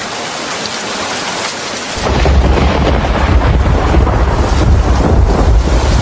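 Heavy rain pours steadily with deep rumbling thunder, growing louder and denser partway through into a roaring downpour with strong low rumble, no voices.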